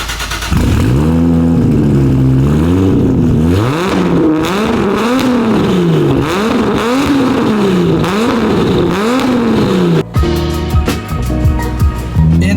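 A Toyota Supra on drag radials with an A-pillar gauge cluster revs hard in repeated rising and falling bursts, loud and close, before the engine note shifts to a rougher, choppier idle.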